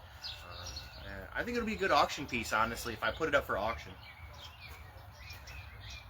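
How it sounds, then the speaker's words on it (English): Birds chirp and tweet faintly in the background outdoors while someone talks in the foreground for most of the stretch. "I love hearing the birds in the background."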